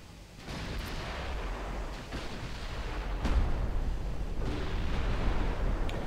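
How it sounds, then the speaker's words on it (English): Naval gunfire from warships in the Ultimate Admiral Dreadnoughts game, a continuous rumbling roar of cannon fire with a few sharp reports breaking through and a heavier burst partway through. "We fire on the destroyer, maybe?"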